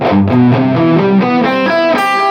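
An electric guitar picks out a quick ascending major seventh arpeggio, notes ringing and overlapping with a slightly distorted tone, no voices.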